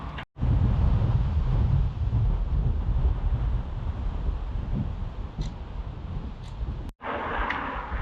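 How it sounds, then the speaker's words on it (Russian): Strong wind buffeting a microphone during a mountain-bike ride on an open road out of Shadrinsk, a loud continuous low roar that cuts out abruptly twice, with faint higher gusts. "Сегодня еще один фактор — это ветер. То есть поздний старт плюс ветер довольно-таки сильный"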